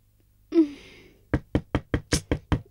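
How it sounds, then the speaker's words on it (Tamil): A door in a Tamil drama scene is rapped repeatedly, a short sound first, then seven quick, evenly spaced sharp knocks, close and loud in a quiet room. "ஏங்க இப்படி கதவை தட்டுறீங்க?"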